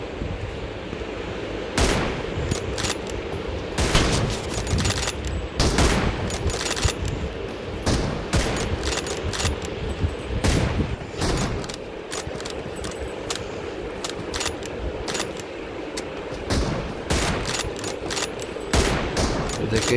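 Rapid bursts of gunfire crack repeatedly over a steady background rumble, some shots overlapping in quick volleys throughout.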